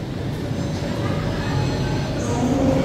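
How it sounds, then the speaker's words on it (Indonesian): The Argo Bromo Anggrek passenger train rumbles low and steady at Semarang Tawang station, with a faint squeal rising near the end and a voice in the background. "ini kereta Argo Bromo Anggrek akan melanjutkan perjalanan ke Surabaya Pasar Turi ya"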